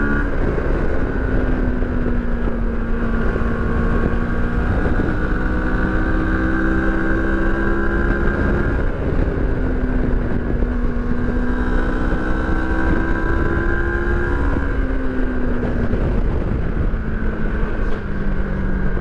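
Moto Morini X-Cape motorcycle, a 60-horsepower bike, ridden at full power on winding roads; a loud, continuous engine drone with rising and falling pitch as it accelerates through gears, mixed with steady wind rush, no talking.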